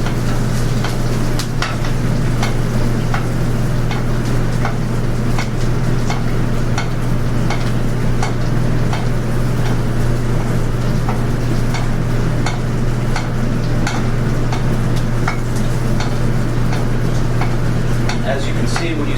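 Sea bass basted in a hot pan with a steady, loud, close sizzle, dotted with light scraping ticks from spoon and pan throughout, unbroken from start to finish.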